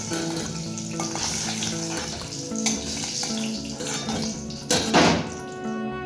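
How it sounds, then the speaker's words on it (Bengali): An egg fries in oil in a pan, giving a steady loud sizzle and crackle throughout, with a few sharp clatters of a utensil against the pan near the end. "আমি কিন্তু ডিমটাকে একটু লাল লাল করে ভালোভাবে ভেজে নিয়েছি।"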